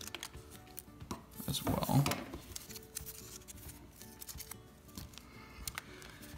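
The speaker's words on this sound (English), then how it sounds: "So I'm actually gonna trim this up a little bit" Scissors snip through the flap of a cardboard toy box for a Matchbox Lesney #20 Chevrolet Taxi, a short cluster of crisp cuts near the middle with faint clicks afterward, someone speaking quietly over them.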